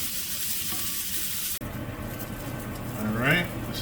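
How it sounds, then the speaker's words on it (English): Precooked chicken frying in a pan for a Marsala dish, a steady broadband sizzle with occasional stirring, a brief dropout midway and a short tonal squeak near the end. "I just want to fry this up and give this a little bit of a crisp to it"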